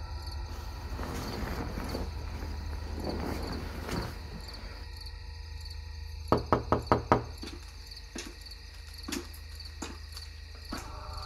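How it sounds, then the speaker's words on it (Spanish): Insistent knocking on a door as an audiobook sound effect, a quick run of four sharp knocks followed by a few scattered taps, set over a steady bed of chirping crickets. "Aquellos golpes tan insistentes efectivamente también me habían crispado."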